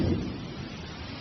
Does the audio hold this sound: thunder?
yes